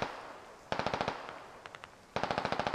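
Automatic gunfire in the military shooter game Squad, two sharp rapid bursts of roughly eight rounds each, separated by a few scattered shots, moderately distant with no voices over it.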